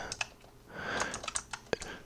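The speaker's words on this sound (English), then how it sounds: "The way you do it is by typing P." Typing on a computer keyboard while writing HTML for a simple web page, a quick run of close, crisp key clicks with uneven spacing and one sharper tap near the end.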